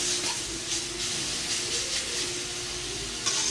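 Fish sauce hits a hot pan of pork belly being stir-fried with basil, giving a loud, steady sizzling hiss that runs the whole time, with a brief sharper flare near the end.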